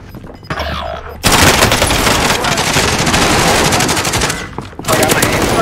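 Bullfrog submachine gun in Warzone Rebirth firing in long, loud, sustained automatic bursts, close and dense, with a brief lull near the end before another burst; faint voices sit underneath.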